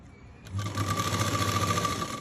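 An electric sewing machine stitches a T-shirt seam, starting abruptly and running as a steady, fast whirring rattle close up, with no talking.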